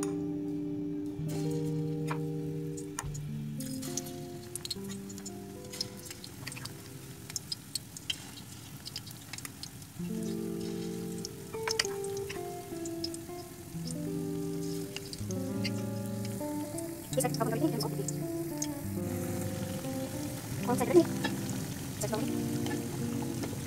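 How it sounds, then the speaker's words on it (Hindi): Pakoras deep-fry in a pan of hot oil, giving off scattered crackles and light pops in an uneven patter, with soft music playing underneath. "अब हम इसमें पकौड़े फ्राई करेंगे।"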